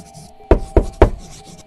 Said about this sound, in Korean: 밖에서 노크 소리가 들렸다.